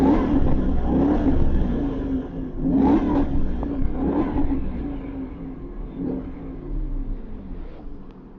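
A Jaguar XK 2+2 GT car's V8 engine revs up in several rising and falling surges, a deep rumbling burble heard close by with no talk over it.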